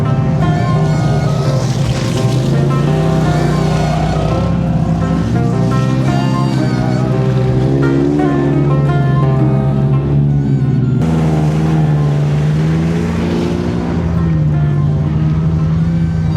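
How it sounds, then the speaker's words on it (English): A Honda Talon side-by-side drives along an off-road trail, its engine a loud, close, steady droning hum with slowly shifting pitch and no break. "First time really riding a Honda Talon"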